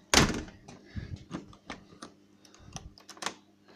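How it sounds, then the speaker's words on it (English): A door lock turns indoors with a quick series of sharp mechanical clicks and thunks, the first one loudest, close by and without speech. "I'm locking the door."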